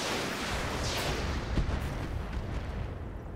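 Mech weapons firing in the Roguetech video game, a dense, loud rumble of booming artillery-like blasts layered into continuous roaring noise.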